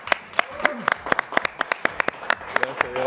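Sharp, evenly spaced hand claps ring out close by for a chef as guests on a Mexican TV show applaud, a small sparse round rather than a full crowd, with talking mixed in.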